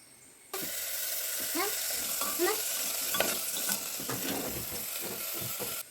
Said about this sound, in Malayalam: ക്യാരറ്റും മുളകും ഇട്ട് കൊടുക്കാം